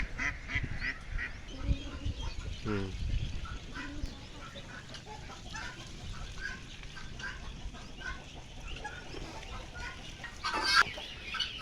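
Chickens and ducks cluck and quack in a busy farmyard, with scattered calls near and far over a steady background murmur and faint voices.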